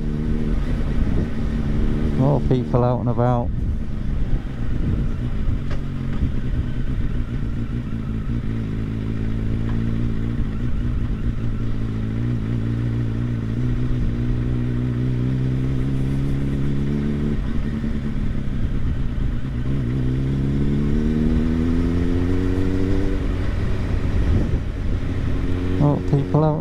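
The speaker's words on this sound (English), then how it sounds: "And there is a lot of cars up here." Heavy traffic rolls steadily along a road near Kirtlington, Oxfordshire, engines droning and rising as vehicles pass close by, with someone talking over the continuous rumble.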